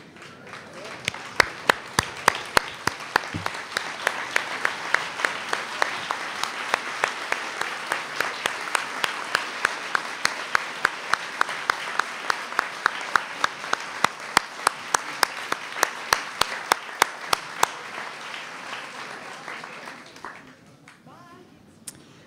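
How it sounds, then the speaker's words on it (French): A standing audience applauds in tribute to mothers at an event introducing a conversation with Hubert Reeves. Dense clapping builds, holds steady for about twenty seconds, then tapers off at the end. "applaudisse debout."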